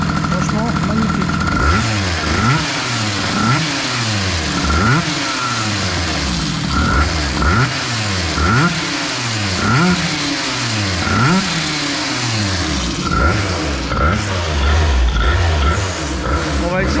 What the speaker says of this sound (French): Ah, elle fait un bruit magnifique cette mob, hein, pour un petit 50.